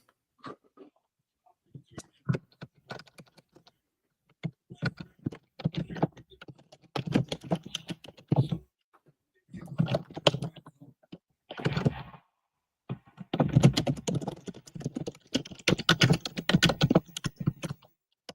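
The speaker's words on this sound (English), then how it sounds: "A lot of typing. I am trying to send a message" Someone types a message on a computer keyboard, producing bursts of close, crisp key clicks separated by short pauses, fairly loud against an otherwise quiet room.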